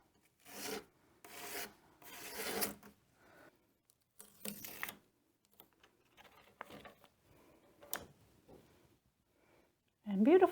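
Drywall mud is smeared over a raised stencil on a furniture piece in short, close scraping and rasping strokes, separated by quiet gaps.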